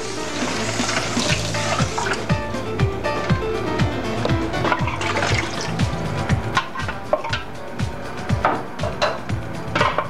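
Water pours steadily into a cooking pot with leftover tomatoes in it, a continuous splashing, gurgling flow heard up close for several seconds.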